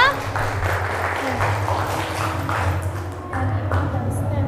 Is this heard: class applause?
yes